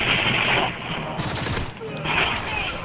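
Gunfire in a multiplayer shooter video game, a burst of rapid shots with booming reports followed by more scattered firing, loud and close, with a voice faintly under it.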